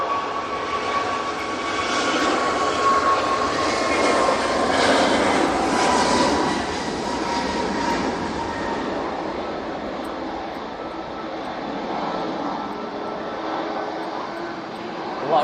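An EasyJet Airbus A321neo departs with a broad, sustained jet engine roar that swells in the first seconds and then slowly fades as it climbs away, heard from a distance with faint talk at times.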